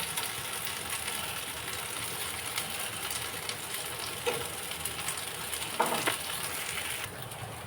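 Potato patties frying crispy in a pan, a steady broadband sizzle that runs throughout at even loudness, with a couple of small clinks near the end.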